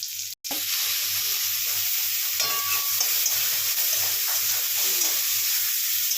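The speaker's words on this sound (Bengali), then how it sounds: "এবারে পেঁয়াজ দিয়ে দিলাম।" Onions fry with salt in a pan, giving a steady, close hiss of sizzling oil with faint stirring scrapes throughout.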